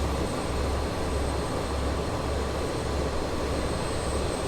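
Simulated BAE 146 jet engine noise in a flight simulator game, a steady broadband roar with low rumble that holds evenly from start to finish, with no voices.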